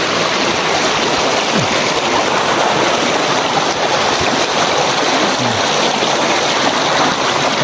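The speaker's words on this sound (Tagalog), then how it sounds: "Ini sapa." A strong spring-fed stream rushes over stones in a steady, loud, close broadband wash that never lets up, with no voices over it.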